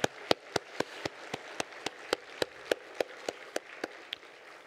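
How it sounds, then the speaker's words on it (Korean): A church congregation claps in rhythmic unison at a worship service, sharp even claps landing about four times a second, steady and close with no talk. "우리 하나님께 영광의 박수 올리겠습니다"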